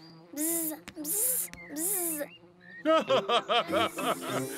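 Cartoon children's voices imitate buzzing bees, a series of playful vocal buzzes and pulsing hums, followed by quick rhythmic buzzing bursts.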